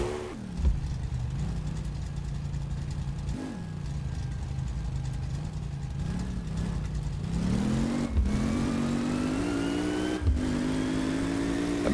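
Car engine in My Garage accelerating while driving a convertible, a loud, close mid-pitched drone rising through revs with several gear shifts and renewed climbs, no talking over it.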